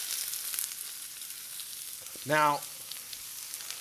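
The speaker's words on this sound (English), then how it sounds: "So I'm gonna go ahead and get the onions into here." Onions sizzle in very hot oil in a pan, a steady crackling hiss throughout, with a voice speaking briefly in the middle over the frying.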